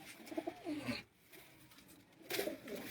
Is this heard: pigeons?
yes